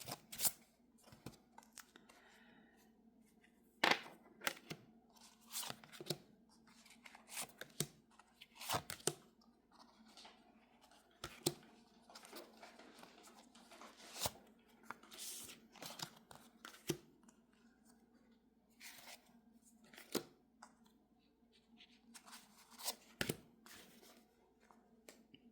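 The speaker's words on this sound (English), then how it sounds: "let's go ahead and do some live shuffling and pile picking" Soft, steady shuffling of tarot cards with quick flicks and riffling snaps, close and quiet, continuing with little pause and no talking.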